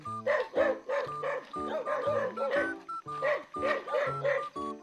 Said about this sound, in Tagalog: Ang mga aso ay nagtatahulan.